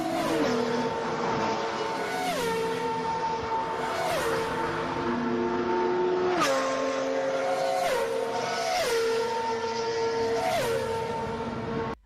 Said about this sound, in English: someone in Reddit made a comparison of the speed difference between GT and F1 cars